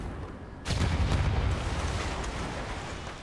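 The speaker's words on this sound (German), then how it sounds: "Ladies and Gentlemen, Explosion." A sudden explosion in the video game Infamous Second Son bursts in with a loud boom, then a rolling, crackling rumble that slowly fades over a few seconds.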